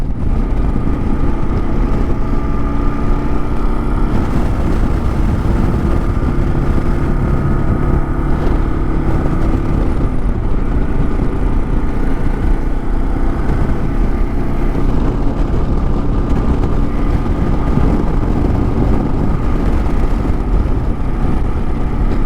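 A 2022 Kawasaki KLR650 motorcycle rides along a road with a loud, steady engine drone blended with heavy wind rush, continuous and close for the whole stretch, with no voices.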